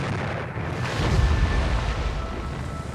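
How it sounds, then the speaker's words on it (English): A wartime depth charge bursting during an attack on a submarine, heard as a deep, loud rumbling boom that swells after a second and rolls on heavily before slowly easing off. "Now for the explosion."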